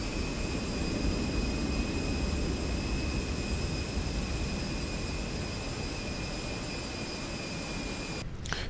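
Steady, loud engine and airflow roar from a SWISS A320 during pushback in Microsoft Flight Simulator 2024, continuous and unchanging, ending in a brief click.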